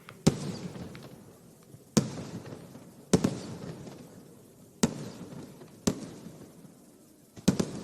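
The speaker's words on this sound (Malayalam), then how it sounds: "അക്ഷരാർത്ഥത്തിൽ വർണ്ണവിസ്മയം തീർത്ത് സാമ്പിൾ വെടിക്കെട്ട് തുടങ്ങിയിരിക്കുകയാണ്" Sample fireworks at Thrissur Pooram burst in six sharp, loud booms spaced about a second or more apart, each followed by a rolling, crackling echo over a steady crowd murmur.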